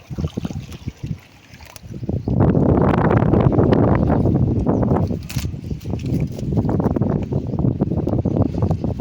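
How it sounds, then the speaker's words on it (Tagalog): Steady, loud wind buffeting the microphone outdoors, rushing over water with gusts rising after a quieter start. "Mahangin pa rin ngayon."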